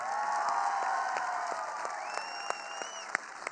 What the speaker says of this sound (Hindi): एक बार अपने माता पिता के सम्मान में जम के तालियां बजाओ।